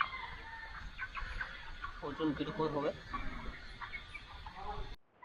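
Broiler chickens on a poultry farm at thirty-eight days old, some with a mild cold, cluck in a busy, overlapping chorus close by, while someone talks over them throughout.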